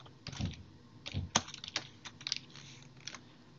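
Fingers tap quickly on a computer keyboard while company details are entered into an online form, a close, light clatter of irregular keystroke bursts with short pauses between them.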